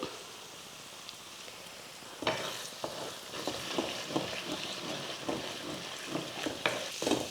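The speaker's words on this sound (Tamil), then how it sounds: "இப்போ இதில் முட்டை சேர்த்துடலாம் மூணு முட்டை சேர்த்துக்கிறேன்" Three eggs hitting a pan of sautéed tomatoes and stirred in, a sudden sizzle after a quiet start followed by repeated scraping stirs and steady frying crackle, close and moderately loud.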